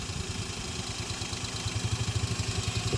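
Maruti Alto 800 LXi petrol hatchback from 2013 idles nearby, with a steady, even low engine putter and a faint clattering rhythm, heard alone.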